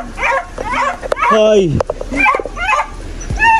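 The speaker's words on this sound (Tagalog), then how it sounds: "Ang ingay ng aso." A dog barks and yips in short bursts close by while a person shouts and talks over it.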